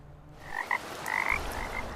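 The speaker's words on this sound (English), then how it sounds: "I just heard frogs croaking in the break of traffic" Frogs croak outdoors in Nolensville during a break in traffic, several short raspy calls in quick succession, fairly faint against a low background rumble, with no voices.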